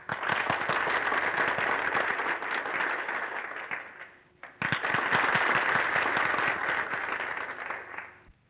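Audience applause for a dance contest to pick the winning couple: dense, loud clapping from a large crowd that fades briefly, then surges back and carries on before tapering off.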